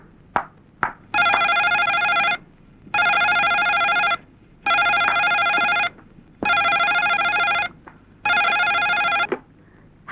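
A telephone rings in five even bursts with short gaps, loud and close, after a number is dialed in a Bangla feature film; a few faint clicks come before the first ring.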